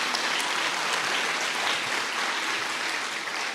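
A church congregation breaks into applause during a service, an even, sustained roar of many hands clapping together for a few seconds with no voice on top.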